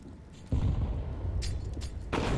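A grenade blast in a Counter-Strike match, heard as a sudden low boom at half a second that sustains into a rumbling roar, with a second burst of sharper noise near the end.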